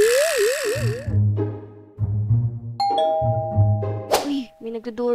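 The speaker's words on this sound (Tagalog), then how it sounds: "may nagdo-doorbell" An electronic doorbell chime in the Roblox game Brookhaven rings with bright tones over bouncy game music, followed by a few short synthetic pings.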